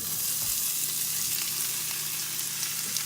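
Smoked sausage fries in a pan with garlic butter, giving a dense, continuous sizzle that stays close and even throughout, with no talking.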